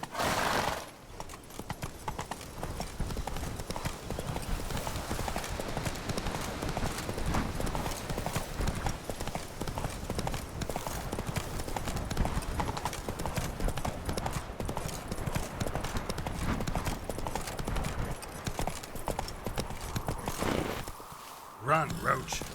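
Horse galloping in The Witcher 3 video game: steady, loud hoofbeats run nearly continuously with a whinny near the start, mixed with game ambience and brief speech.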